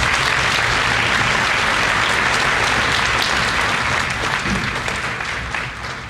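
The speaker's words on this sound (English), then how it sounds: "Let's give them one more round of applause" High school graduation crowd giving the seniors a sustained round of applause, dense and loud clapping throughout that tapers slightly at the end.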